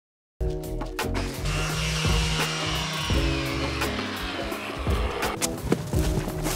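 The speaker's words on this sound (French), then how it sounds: "Je vais refaire un petit coup de ponceuse et repeindre ce côté." Electric power sander buzzes steadily against a flaking painted wooden surface being stripped for repainting, loud and close, with rattling and scraping variations in the motor's drone.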